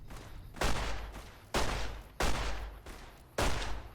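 Four loud gunshot blasts from Fallout: New Vegas, spaced irregularly, each with a sharp attack and a long decaying rumble, close and alone with no talk.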